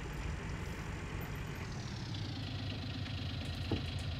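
A tractor or farm vehicle engine in Farming Simulator 19, a steady rumbling drone with a rising pitch as it speeds up, loud and continuous throughout.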